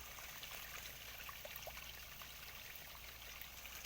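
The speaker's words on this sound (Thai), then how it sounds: "อันนี้ครับปลาดุกผมกำลังเปลี่ยนน้ำครับ" Water draining from a catfish pond through a siphon during a water change, a faint, continuous trickling flow with no talking.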